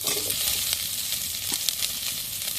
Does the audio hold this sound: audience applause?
no